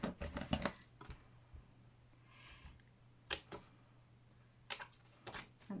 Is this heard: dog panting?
no